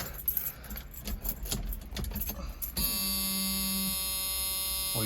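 In a 1985 Ford F150, after a few seconds of clicks and rattling, a steady electronic ignition warning buzzer comes on and holds a constant loud tone with no one speaking.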